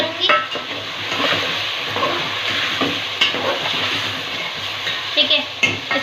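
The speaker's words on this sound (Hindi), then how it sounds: "थोड़ा सा फ्राई करूँगी" Spices for achar gosht fry in a pan with a steady, fairly loud sizzle, broken by scraping stirs and a few sharper clinks from the utensil.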